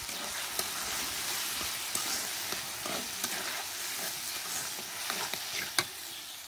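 Roasted chili, cumin and five-spice powder being stirred into tomato pickle in a pan, giving a steady close scrape and soft sizzle with a few sharper clinks, no talking.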